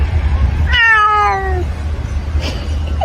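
A single clear cat meow, close and fairly loud, falling in pitch, followed by a faint softer sound over a low background hum.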